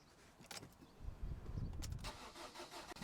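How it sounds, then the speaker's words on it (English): A Fiat Grande Punto 1.3 Multijet diesel engine cranks briefly and catches, settling into a rough, rumbling idle close by, heard alone after a fuel filter replacement. "Start the engine"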